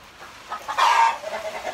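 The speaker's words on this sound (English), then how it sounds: "I hope you guys can hear me with all these chickens in the rain." Backyard chickens on a mini farm cluck in the rain, a loud close burst of clucking and squawking rising in the middle, with softer scattered clucks around it and no talk.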